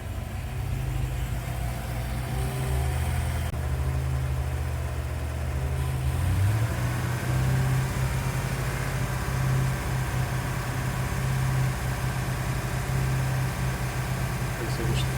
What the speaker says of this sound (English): And here is that starboard motor. starting up and running as well.